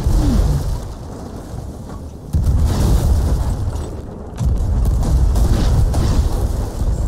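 Ship cannons fire in the Sea of Thieves pirate game, loud booming blasts setting off a sustained heavy rumble with a few sudden surges in intensity.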